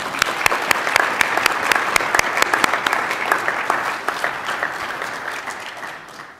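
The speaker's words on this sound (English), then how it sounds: "let's do a round of applause for the family and friends that are here today" Audience applause at a 2022 graduate recognition ceremony: dense, loud clapping from a large crowd, steady at first and gradually thinning out toward the end.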